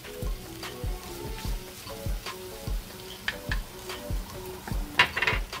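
Tomato paste dropped into a hot pan of browning beef for empanadas, a quiet sizzle running underneath repeated sharp taps and scraping of a utensil against the pan, with a louder clatter near the end.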